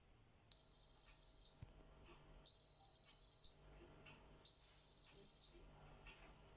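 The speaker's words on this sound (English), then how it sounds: "We've got a washing machine, and the sound it makes is this." Three long electronic beeps from a washing machine's finish signal, each about a second, evenly spaced and high-pitched.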